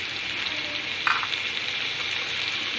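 Dumba mutton fries in a karahi with black and white pepper, cumin and cloves, a constant bright sizzle filling the background, with one brief clink of a spoon partway through and no one speaking.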